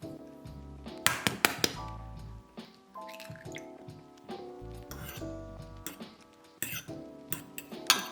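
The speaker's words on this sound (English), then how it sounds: "I beat an egg with a fork and brush it all over the bread" An egg is beaten with a fork in a bowl, giving quick clusters of light metallic taps and clinks with soft wet squishing, close by, over gentle background music.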